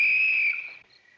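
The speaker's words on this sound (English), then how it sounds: "every time that whistle blows, I get a chill all over" A single sharp whistle blast, loud and close, holding steady for about half a second before fading away.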